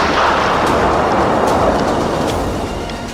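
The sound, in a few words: explosion sound effect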